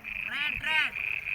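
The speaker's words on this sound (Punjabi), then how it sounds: "ਡੱਡੂ ਬੋਲ ਰਹੇ ਨੇ ਟਰੈ ਟਰੈ ਬੋਲ ਰਹੇ ਨੇ ਡੱਡੂ" Frogs croak in a close, rhythmic chorus in a waterlogged mung bean field, with a high ringing trill running through and a few pulsed calls overlapping.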